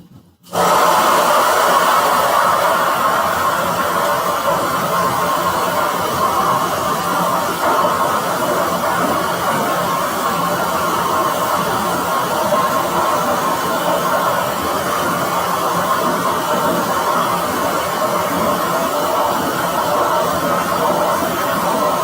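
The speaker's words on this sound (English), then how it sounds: "I'm going to dry it with the hair dryer" A hair dryer drying paint on a canvas runs loud and steady for over twenty seconds, a constant close-up blowing roar after a brief click at the start, with no voices.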